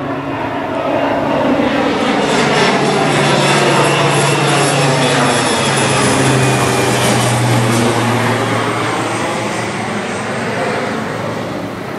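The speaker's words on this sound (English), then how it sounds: "He's making circles, making another pass on the soybean fields down off the hill." A small airplane flies low in circles over soybean fields below a hill, its steady engine drone loud and continuous throughout, swelling slightly as it passes.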